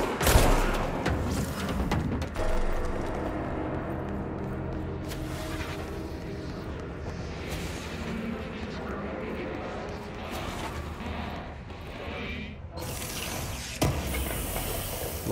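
Gunfire in the action video game Control, a steady stream of shots and impacts mixed with game music and effects, with someone talking over it.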